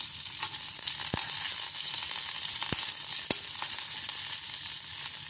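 Food sizzles steadily in a pan over low heat, a close continuous frying hiss with occasional small pops and clicks from stirring.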